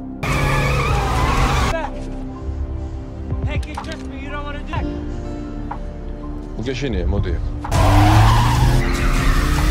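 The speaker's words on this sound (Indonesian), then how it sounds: "Mereka mencoba kabur menggunakan mobil, namun lagi-lagi mobilnya Sheila mengalami kecelakaan yang diakibatkan oleh serangan musuh." A car skids and crashes during an enemy attack in a film scene, with loud tire squeals and impact noise bursting at the start and again near the end, separated by a quieter stretch of music and voices.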